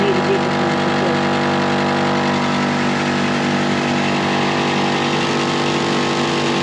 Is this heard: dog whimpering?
no